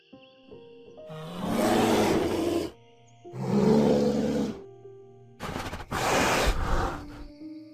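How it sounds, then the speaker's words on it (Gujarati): Bear roaring: three long, deep, rough roars, each lasting one to two seconds with short pauses between, loud and close, with no speech. "રીંછ શક્તિશાળી પ્રાણી છે."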